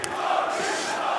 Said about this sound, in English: The crowd is going absolutely bonkers right now.